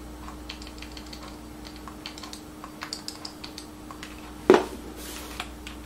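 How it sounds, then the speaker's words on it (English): Quick, light keystrokes tapping on a computer keyboard in irregular bursts, close and clear over a faint background hum, with one louder clack near the end. "I'm just going to use a keyboard because it's so much faster."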